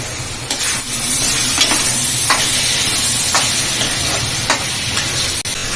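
Boiled broad beans stirred into a simmering curry in a pan over a hot stove, a continuous sizzle with repeated scraping strokes of a spoon, steady and close, no voices.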